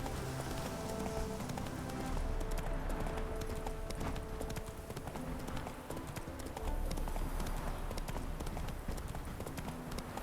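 Roach, a horse in the video game The Witcher 3, gallops with rapid, continuous hoofbeats under game music and ambience, running steadily throughout.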